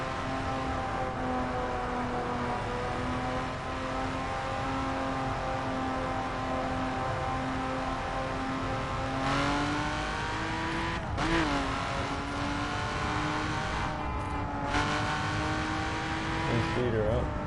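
A 2011 BMW Z4 street edition with a 412 hp engine roars loudly and steadily from inside the car, rising in pitch as it accelerates, with a few brief surges.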